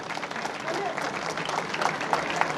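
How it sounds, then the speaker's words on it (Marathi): An audience at a community gathering claps loudly, a dense and steady wash of many hands that holds for the whole stretch, with faint crowd voices mixed in. "एकदा जोरदार टाळ्या झाल्या पाहिजेत."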